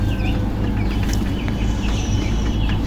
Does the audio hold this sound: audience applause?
no